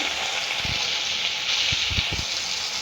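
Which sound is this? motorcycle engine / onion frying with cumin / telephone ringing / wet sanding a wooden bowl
onion frying with cumin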